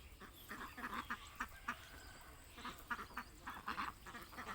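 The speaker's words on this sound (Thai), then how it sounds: "เป็ดกากีแคมเบลกับเป็ด" Faint Khaki Campbell ducks quack in scattered bursts at a distance, a busy flock calling over low background noise.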